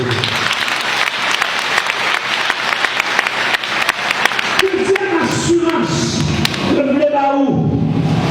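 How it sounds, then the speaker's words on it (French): Loud crowd applause with steady clapping that thins out toward the end, while a voice speaks over the fading claps. "Seigneur, applaudissement."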